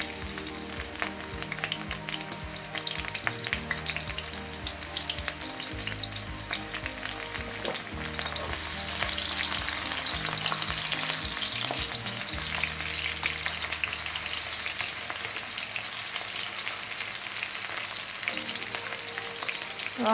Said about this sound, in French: Donc, je fais revenir l'oignon.